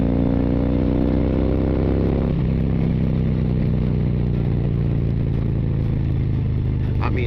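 A CVO Street Glide motorcycle is ridden fast through corners, its loud engine droning steadily with a gear change and shifting pitch partway through, close and dominant throughout.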